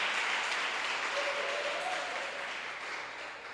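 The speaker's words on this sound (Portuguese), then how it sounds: "dá um forte aplauso ao Rei Jesus" Church congregation at a Sunday celebration service applauds in a dense, steady wash of clapping that slowly fades, fairly distant and alone.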